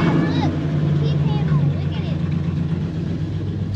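A Dodge Ram 1500 pickup idles with a steady low rumble and a constant hum beneath it, while excited voices talk and exclaim nearby.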